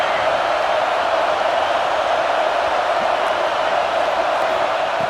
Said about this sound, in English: The noise. This crowd is trying to inspire this defense to make a big red zone stop.